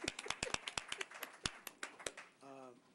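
Audience applause at a Franklin Township, New Jersey council meeting: a burst of separate, sharp hand claps from a modest crowd, irregular and thinning out over a few seconds, followed by a brief voice at the end.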